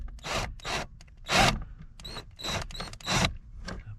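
A screwdriver unscrews a part inside a 3rd Gen Camaro Z28, giving close, repeated rasping and grinding turns in short rhythmic bursts with brief pauses between them.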